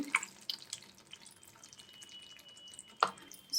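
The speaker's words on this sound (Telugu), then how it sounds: "ఇప్పుడు చిక్కదనం కోసము కలిపి పెట్టుకున్న బీపిండి పులుసు వేసుకోవాలి." Gram flour mixed with water is added to a simmering onion and tamarind broth, giving a few faint, sparse drips and small splashes of liquid in a quiet kitchen.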